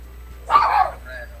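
Dog indoors gives a single short, fairly loud bark close by, alone against a quiet room background.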